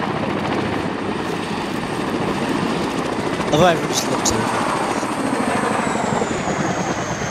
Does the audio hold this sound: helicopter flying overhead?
yes